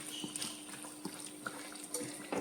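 Quarter cup of water poured into a pan of tomato fry, a soft continuous splashing trickle with small drips and clinks, close and steady, no talking.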